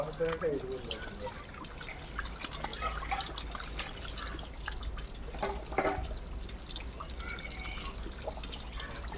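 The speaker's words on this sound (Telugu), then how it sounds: "వాటర్ లీకేజ్ ఇదంతా." Water leaks and drips from a large drinking-water supply tank, irregular splashing and trickling heard up close, with a voice talking over it.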